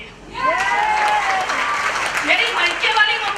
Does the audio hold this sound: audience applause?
yes